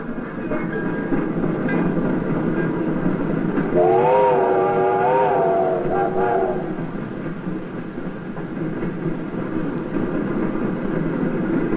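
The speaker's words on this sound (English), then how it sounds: "the circus train pulled into town" A circus train rumbles along with steady rolling clatter while its whistle sounds a long wavering blast in the middle, no voices.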